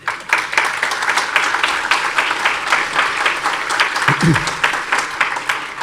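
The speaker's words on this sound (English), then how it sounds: "I think you can clap, everybody." Audience applause fills an awards ceremony hall, dense steady clapping from many hands, fairly loud, with a brief low murmur of voices partway through.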